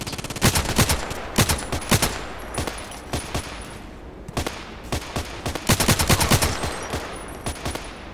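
KelTec RFB rifle firing in the Contract Wars shooter game, loud rapid bursts of sharp gunshots in quick clusters with short pauses between, close and punchy.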